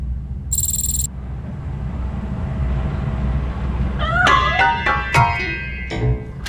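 A cat hiding in a piano meows in the video game RoboCop: Rogue City, several short rising and falling meows close by in the second half, over a low ambient game hum with a brief tone earlier.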